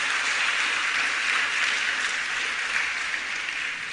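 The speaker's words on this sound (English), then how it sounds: "I want to give the Prime Minister a round of applause" Crowd at a public meeting applauding the Prime Minister, a loud, dense, sustained wash of many hands clapping that holds steady throughout with no talk over it.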